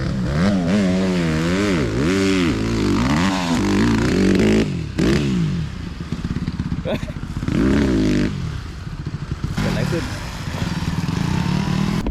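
A motocross motorcycle engine revs hard and close, pitch rising and falling in repeated throttle bursts with brief cut-offs, loud and raspy, while people talk over it at times.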